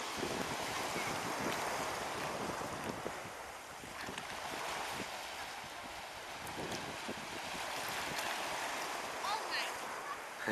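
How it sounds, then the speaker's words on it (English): Warm turquoise surf breaking on a Florida beach, a steady broadband wash of rolling waves with wind buffeting the microphone throughout, loud and continuous. "Some nice waves out here."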